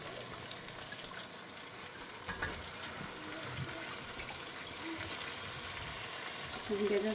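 Cluster beans and potatoes with asafoetida sizzle and fry in spice masala, a steady broadband hiss with faint clatter running throughout and a louder burst near the end.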